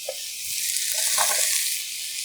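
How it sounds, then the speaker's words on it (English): Potatoes stir-fry in a hot pan for Korean black bean noodles, a bright steady sizzle with a few soft scrapes of stirring and no talking. "So put potatoes and stir fry."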